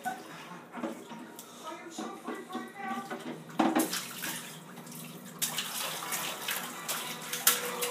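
A baby splashes and dunks in bath water, with irregular sloshing and splashes close by under frequent adult talk.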